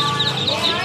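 White super-lean ducks for sale at a rural market in Ben Tre, Vietnam, give close, repeated nasal calls over a busy background of voices.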